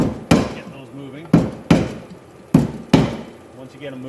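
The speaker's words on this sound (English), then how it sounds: "I'm going to take a hammer, get those moving." Four sharp hammer blows ring out at irregular intervals, loosening the drive parts on a Contour pedal boat drive assembly, each strike close and loud with a short metallic tail, with low background murmur between hits.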